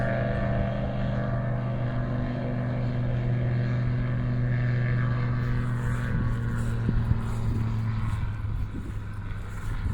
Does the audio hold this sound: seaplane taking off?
yes